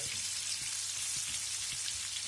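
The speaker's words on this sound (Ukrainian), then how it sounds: "А тепер притушу трошки ту цибульку" Onion braises in a pan with a steady, dense sizzle and scattered small pops, close and continuous throughout.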